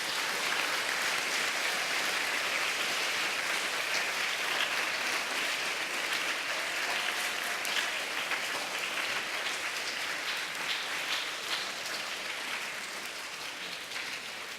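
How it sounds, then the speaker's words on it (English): A school audience gives a long, steady round of applause at a principal's recognition ceremony, dense clapping that stays loud throughout and tapers slightly near the end, with no speech over it. "At this time, we can recognize them with a round of applause."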